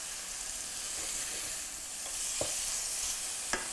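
Peaches frying in a pan with a steady, soft sizzle, broken by a couple of brief knocks and scrapes as pieces are flipped over.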